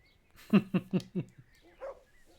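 A dog in the medieval video game Kingdom Come: Deliverance gives four quick, evenly spaced barks close by, followed by a softer short whine, with no talking over it.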